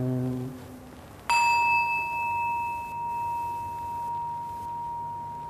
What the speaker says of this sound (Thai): ดึงสติมาอยู่ที่เสียงะระฆัง ฟังเสียงนี้คิดตามเสียงนี้อีกสักรอบหนึ่ง